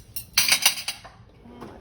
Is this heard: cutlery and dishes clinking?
yes